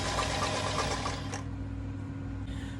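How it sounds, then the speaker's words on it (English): Sewing machine stitching slowly around a curve on an overalls apron, a steady close whir for about a second and a half that then fades to a low background hum. "you're turning a curve here, so you just go slow, take your time, and just stitch on"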